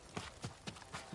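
A horse's hooves clip-clop in Ghost of Tsushima on PS5, four evenly spaced thuds at a trotting rhythm, fairly faint and close, with no talking over them.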